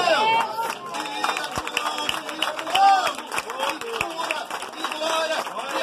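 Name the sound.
church congregation clapping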